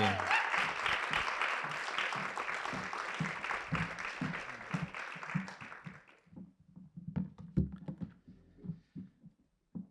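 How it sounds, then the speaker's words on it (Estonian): An audience at a poetry prize nominee event applauds loudly for about six seconds, the clapping then thinning out into scattered claps and footsteps. "Teeme ühe aplausi."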